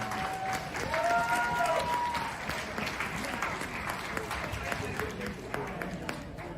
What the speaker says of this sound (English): big round of applause to Terry